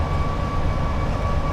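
Train in a simulator game with the locomotive brake applied, a steady, loud low rumble under a thin, constant tonal whine, with no change over the short stretch.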